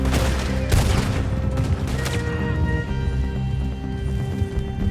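Gunshots in the video game Red Dead Redemption 2 during a horseback chase, a few sharp cracks early on over pounding hooves and a steady rumbling game soundtrack.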